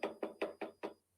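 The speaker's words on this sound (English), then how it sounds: "Did y'all hear that knock?" Five evenly spaced knocks rap on a door in quick succession, close and crisp, then stop, with no talking.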